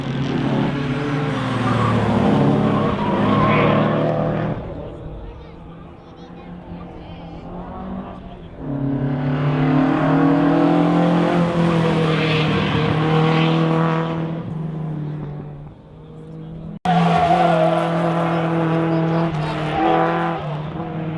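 Cars racing at the Festival of Motoring, with a ratty engine note: loud engine roars that rise and fade as cars pass, in waves, with brief lulls between passes.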